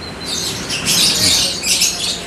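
Rapid high chirps and twittering from a canary ring out in quick bursts over a hissy background, close and fairly loud.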